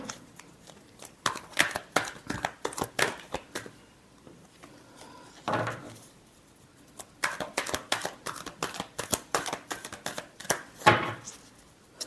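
Tarot cards are shuffled by hand in rapid crackling bursts, separated by short pauses, close and clear.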